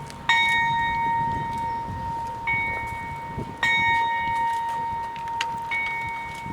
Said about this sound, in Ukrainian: наприкінці місяця в меморіальному сквері Івано-Франківська лунає дзвін пам'яті